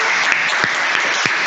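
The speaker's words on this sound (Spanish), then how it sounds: "Aplausos fin de bloque." An audience claps at the end of a session block at a patent conference, a steady wash of applause with a few sharp louder claps standing out.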